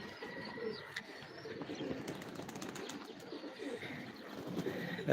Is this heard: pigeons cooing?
yes